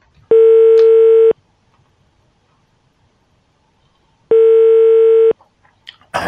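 Two long electronic ringback tones on a telephone line during a prank call, each about a second long and separated by a few seconds of silence, with faint handling noise at the end.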